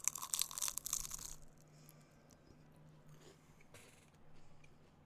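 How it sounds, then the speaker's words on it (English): A banana and Nutella spring roll gets a loud, close crunchy bite that crackles for about a second, then gives way to quieter chewing noises over soft background hiss. "I hope that was a good crunch sound for you."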